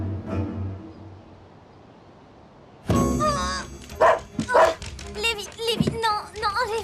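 A dog barks and yips in several sharp, close bursts after a quiet start, mixed with whimpering tones and people talking in French.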